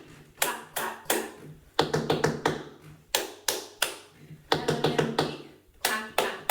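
Sharp tap shoes strike the floor in quick clustered bursts with short pauses between, crisp and close, forming a repeating dance rhythm.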